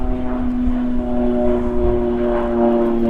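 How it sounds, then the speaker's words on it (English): A propeller aeroplane drones steadily overhead above a garden, a loud, sustained tonal hum that fills the whole moment without any talking. "An aeroplane going overhead."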